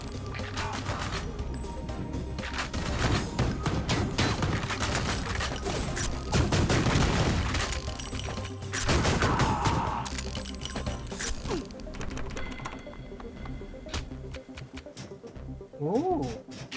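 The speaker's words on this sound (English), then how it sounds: "I knew I was shooting at a guy up here" Sustained video-game gunfire rattles in dense bursts with sharp cracks and impacts, loud and continuous, easing briefly near the end.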